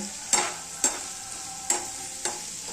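Onion frying in a pan over a raised flame until brown: a continuous soft sizzle punctuated by four distinct scraping stirs of a spatula, no voices.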